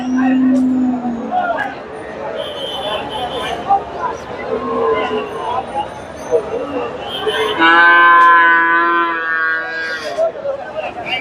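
Cows moo loudly at a cattle market in Bogura, Bangladesh, with one long drawn-out call near the end, over people talking and the general hubbub of a busy crowd on a rainy day.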